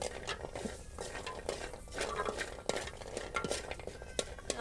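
Jackfruit seeds being dry-roasted and stirred in a hot pan, giving a steady rattling, scraping clatter with faint sizzle, moderately close and without speech.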